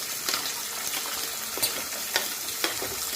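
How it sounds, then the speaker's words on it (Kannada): Peas and onions frying in a pan, a steady close sizzle with a few soft scraping stirs. "ಬಟಾಣಿ ಮತ್ತು ಉಳ್ಳಾಗಡ್ಡಿ ಹಾಕೊಳಕತ್ತೀನಿ ನೋಡಿರಿ."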